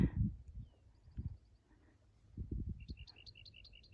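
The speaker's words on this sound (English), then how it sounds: "Listen to the birds." Faint, quick bird chirps in short repeated series, heard outdoors over soft thumping and low background noise.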